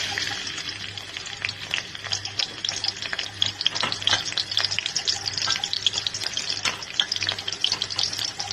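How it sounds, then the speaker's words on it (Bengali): Chopped ginger and garlic with cardamom and garam masala frying in hot oil for a chicken vegetable dish, a loud close crackling sizzle with irregular spits and pops throughout, no speech. "এখানে আমি অ্যাড করব সবার প্রথমে আদা কুচি আর রসুন কুচিটা অ্যাড করব আমি।"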